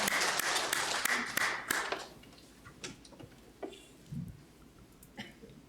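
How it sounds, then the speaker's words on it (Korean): A Korean church congregation claps during a Sunday worship service, a brisk burst of many hands for the first couple of seconds that quickly thins to scattered claps, coughs and quiet room noise. "하나님께 영광의 박수 올려드립니다."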